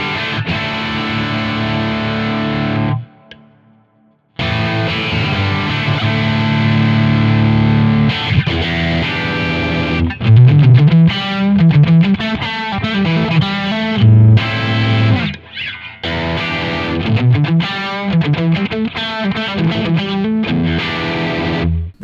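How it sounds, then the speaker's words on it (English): Electric guitar with a PHAT-O-Caster passive boost mod, played through heavy distortion: chugging riffs and bends with a brief gap near the start, loud and close, no talking. "Okay, so now we've got heavier distortion sound."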